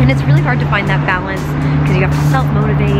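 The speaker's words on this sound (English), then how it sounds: "Also, sorry about the traffic." Downtown Los Angeles road traffic drones steadily beneath someone talking close by, a continuous engine rumble with a passing vehicle or two.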